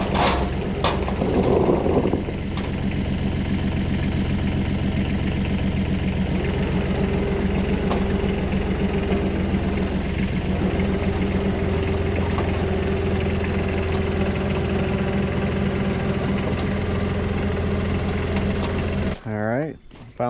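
A tractor engine idles and runs steadily while wood chip mulch is loaded, a constant low rumble with a few brief knocks and scrapes early on, before the sound cuts off near the end.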